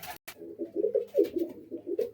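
Pigeons coo softly at close range, a short run of low, rolling throaty calls with a few sharp rustles at the start, no voices.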